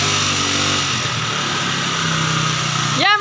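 The engine of a repaired motorcycle runs steadily at idle with a constant buzzing drone up close, briefly rising in pitch near the end.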